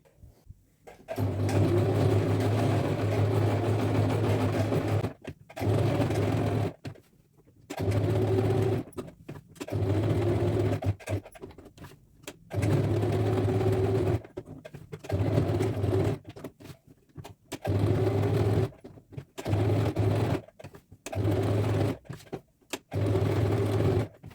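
Sewing machine stitching a kurti, running in repeated bursts of a few seconds each with short pauses between, a steady motorised whir and needle chatter, close and fairly loud with no talking.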